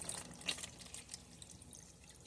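Warm water, about one and a half cups, is poured into a bowl for croissant-twist donut dough, giving a faint, brief splashing trickle with a few drips in a quiet kitchen.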